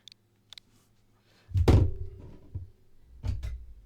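A phone drops onto a desk with a single dull, close thud and a brief rattle, followed a moment later by a second softer thunk, after a couple of faint clicks in a quiet room.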